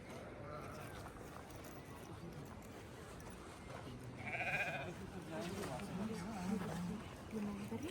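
Sheep and goats bleat on a mountain trek at Sarthal, Kashmir. A few clear calls rise mid-way over steady nearby talking and outdoor background noise.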